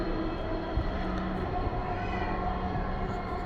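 A six-car metro rail train running along a 21.26-kilometre line, a steady low rumble and hum of the carriage, heard from inside and close.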